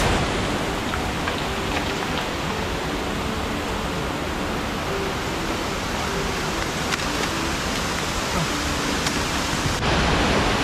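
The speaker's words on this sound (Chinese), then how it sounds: "70米主瀑下面，漂亮！" The 70-metre main fall of Dazhi waterfall in Liugui, Kaohsiung, roaring as a dense, unbroken wash of falling water that stays loud and steady throughout.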